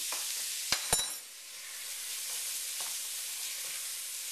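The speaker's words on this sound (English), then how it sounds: "Now, I have this pan pretty hot, so it's going to cook pretty quickly" Cumin sprinkled into a very hot frying pan with leftover chicken, a steady sizzle after two sharp clacks of a utensil, close and moderate in level.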